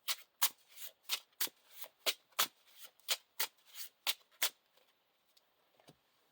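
A deck of Lord of the Rings living card game cards is shuffled, about a dozen crisp, evenly paced riffling strokes close by, then trailing off into faint handling sounds.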